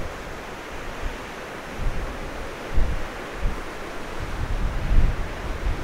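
Strong wind blows over a lake in Nova Scotia, a rough broadband rush buffeting the microphone in uneven gusts that swell and fade.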